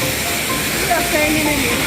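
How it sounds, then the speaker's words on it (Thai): A waterfall at Kengtung in cold winter weather pours as a steady, loud broadband rush of water that fills the whole stretch, with a voice faintly present beneath it. "โอ้ นี่คือน้ำตก ที่เชียงตุงครับ"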